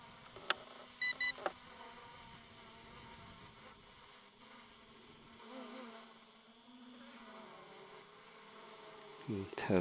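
A Hubsan H501S quadcopter drone hovers overhead in gusty wind, its faint, steady insect-like buzz drifting slightly in pitch, with a few brief clicks and knocks nearby.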